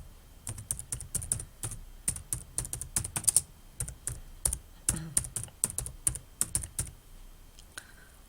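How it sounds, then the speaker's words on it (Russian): Search terms typed on a computer keyboard: quick irregular bursts of clicky keystrokes, near and fairly quiet, with short pauses between words and no voices. "В поисковой строке набираем поисковые выражения."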